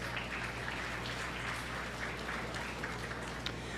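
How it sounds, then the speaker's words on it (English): Applause from spectators at a county 4-H beef show for crossbred steer exhibitors, fairly faint, continuous clapping in a large arena over a steady low hum. "Let's go ahead and give all our crossbred steer exhibitors a nice round of applause."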